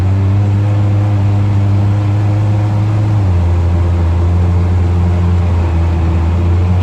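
A 1977 Chevy C10 engine with a rebuilt Monojet one-barrel carburetor holds a loud, steady drone at full throttle, then the pitch drops partway through; close, continuous and with no talking.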